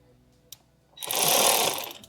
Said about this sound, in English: I've instead switched to my electric ratchet with a Phillips head bit